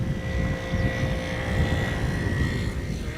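A passenger jet arriving at Amsterdam Schiphol's Polderbaan runway on a hot sunny day, a steady broad engine roar with a faint high whine, constant and fairly distant with some wind buffeting.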